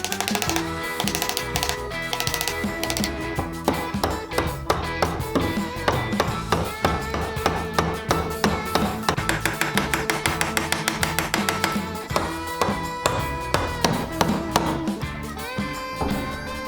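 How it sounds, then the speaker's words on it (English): A wood chisel pares out the waste for sliding dovetails on a modern end table, making dense, rapid tapping and scraping strokes close by, with a steady rhythm and a few sharper knocks. "when I start chiseling from the top."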